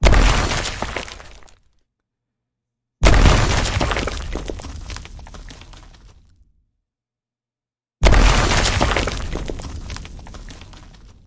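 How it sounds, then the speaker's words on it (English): Three separate explosion sound effects with debris, each a loud sudden boom with crackling, shattering debris that decays over a few seconds into silence before the next. "Explosion, debris, short stereo."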